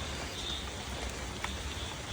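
Steady rain hisses evenly throughout as large bags of plants are loaded onto a truck in the downpour, a constant close wash of falling water with no voices.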